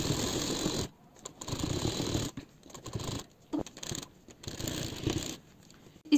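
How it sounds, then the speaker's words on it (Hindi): Sewing machine stitching along the edge of a pheran cuff, running in short mechanical bursts with brief pauses between runs, close and fairly quiet. "टिकन के एज पे हमें स्टिचिंग करनी है"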